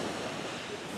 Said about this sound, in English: I'm not getting hit by the waves as much as I want to be